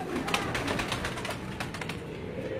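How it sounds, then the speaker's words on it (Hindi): Rampuri breed pigeons, large high-flying birds kept by a fancier in Karachi, coo in soft, rolling, throaty bursts close by, with a faint background rustle. "ये रामपुरी नस्ल के कबूतर जो हैं, ये आपको मरवत भाई दिखा रहे हैं।"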